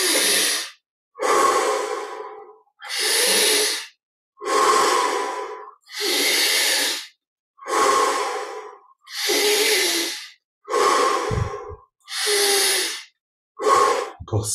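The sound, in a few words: deep breathing during guided meditation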